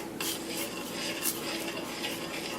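Rice and pasta shells get stirred in a pot on a home stove, a close scraping and swishing that comes in repeated strokes over a constant soft hiss.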